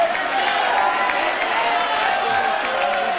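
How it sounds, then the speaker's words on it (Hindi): Live studio audience at an Indian television courtroom show clapping steadily throughout, a dense continuous wash of applause with crowd noise and no voice over it. "ताली बजाओ।"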